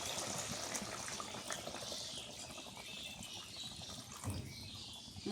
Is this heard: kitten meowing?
no